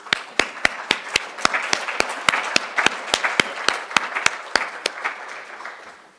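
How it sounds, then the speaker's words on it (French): A church congregation claps in thanks for volunteers, sharp individual claps landing in a fairly regular rhythm over a softer bed of scattered applause that thins toward the end. "je crois qu'on peut les applaudir et les remercier"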